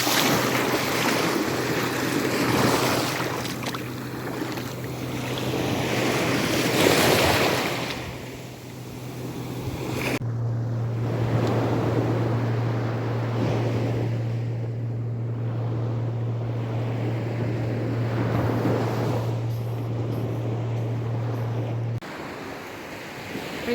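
Black Sea waves at an Odesa beach, with a continuous wash of surf and heavy wind buffeting the microphone throughout, along with a steady low hum.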